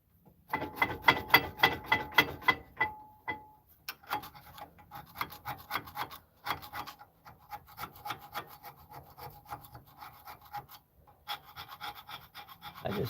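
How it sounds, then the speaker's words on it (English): Corrosion is rasped off the front brake parts of a 2020 Ford Escape with repeated scraping strokes, close and steady. Rhythmic bursts come first, then longer uneven scraping with short pauses, and there is no talk. "I just scrape it off with whatever you got"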